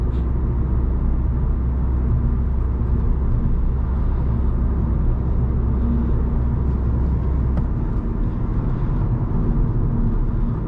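An Alfa Romeo Mito drives on the autobahn at night at about 170 km/h, producing a steady loud cabin rumble of engine, road and wind noise with no break.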